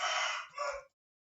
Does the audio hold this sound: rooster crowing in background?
yes